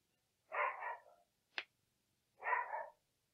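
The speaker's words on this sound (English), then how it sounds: "You can so hear my dog barking in the background." A dog barks twice in the background, two clear mid-distance woofs with a sharp short yip between them, in an otherwise quiet room.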